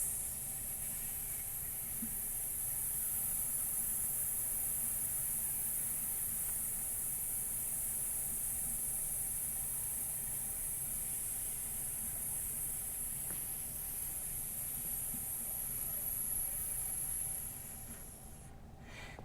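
Several voices imitate a snake's hiss together, holding one long, steady, breathy hiss that runs for most of the clip before trailing off near the end.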